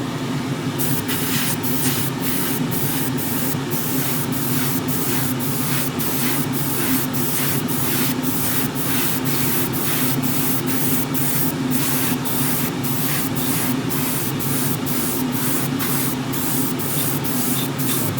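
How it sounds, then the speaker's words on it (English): An airbrush sprays titanium silver paint onto a model motorcycle exhaust, a steady close hiss with soft rhythmic puffs, running continuously with an extractor fan droning underneath. "So it's already loaded up in my airbrush, so turn the extractor fan on and I'll start spraying."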